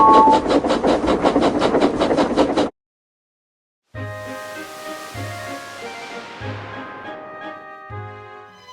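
Cartoon steam engines chuffing along rails: a rapid, even run of chuffs stops abruptly, then after a brief silence comes a slower rhythmic clatter with ringing tones, loud and close.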